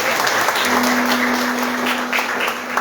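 Congregation applauding during a church worship service, a steady dense wash of clapping throughout with a sustained low organ or keyboard tone underneath.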